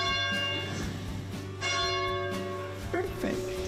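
A church bell at the Church of the Wayfarer in Carmel rings with clear, lingering metallic strikes that overlap and decay, while a person talks faintly underneath.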